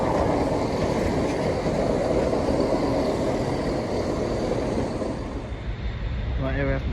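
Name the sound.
CrossCountry passenger train passing on the Trent Valley line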